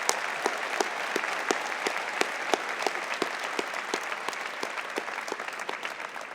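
Graduate commencement audience at Adelphi University giving sustained applause, a dense steady clatter of many hands, moderately distant, with no speech over it.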